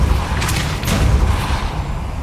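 A Depulso spell cast in Hogwarts Legacy, heard as a loud, dense burst of booming, thudding energy with a couple of sharp whooshing flares, filling the whole moment with no talk over it.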